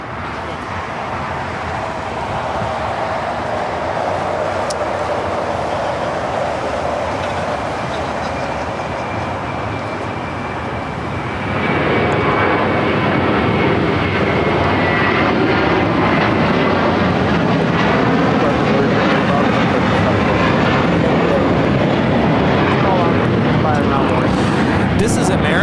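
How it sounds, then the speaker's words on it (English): American Airlines Airbus A321 jet taking off at LAX toward Dallas Fort Worth, a loud rising engine roar that swells and holds steady across the clip, broad and close. "American Airlines 3295 taking off to Dallas Fort Worth on an A321."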